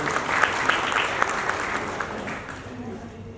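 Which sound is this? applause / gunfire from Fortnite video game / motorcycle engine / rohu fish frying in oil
applause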